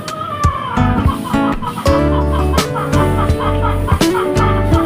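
Chickens clucking and calling nearby, several native and Rhode Island Red crossbreed birds with repeated short clucks over a loud, steady outdoor background.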